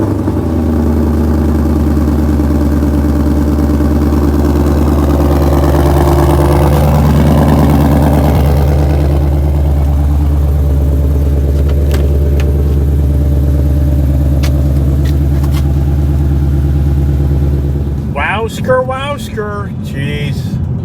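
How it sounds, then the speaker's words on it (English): A Ford Mustang GT500 engine idling loud and close, a deep rumbling drone that swells with revs, then settles before a person's voice cuts in near the end. "let's hear her start up"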